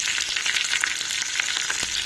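Curry leaves spluttering in hot tempering oil for a chutney, a dense steady sizzle with scattered sharp crackles and pops throughout, close and fairly loud, with no talking.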